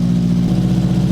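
A 1977 Mitsubishi Sigma Lancer engine with long-tube headers runs with a deep, throaty, aggressive drone, loud and close, holding steady for about a second.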